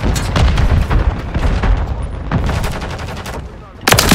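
Rapid, dense automatic fire from a light machine gun in Modern Warfare 3 multiplayer, loud and continuous for about four seconds with a sharp burst at the end.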